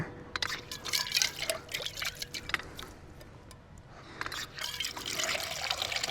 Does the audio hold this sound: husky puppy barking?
no